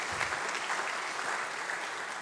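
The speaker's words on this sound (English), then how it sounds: "Please, a round of applause for Dr. Kamata." An audience at an academic lecture on Julius Nyerere claps steadily, a dense, even wash of applause from a crowd that holds at a constant level throughout.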